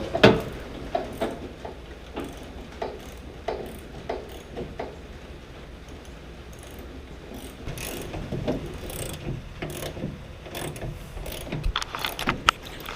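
A ratchet clicks in quick bursts as bolts are screwed in while installing a Hilborn ram air scoop on a Crown Victoria, rapid close ticking runs repeated with pauses and faint background noise.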